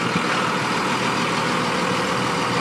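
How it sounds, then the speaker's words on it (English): A used 2nd gen Cummins diesel truck engine runs with a steady, dense rumble, close and loud throughout, with no voices over it. "We're going to run this truck."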